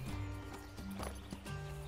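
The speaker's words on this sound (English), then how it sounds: "My horse is in the way. Gonna move my horse out of the way." A horse moves in the ranch game Ranch of Rivershine, with quick hoof clip-clops and a brief whinny-like snort over a soft background hum.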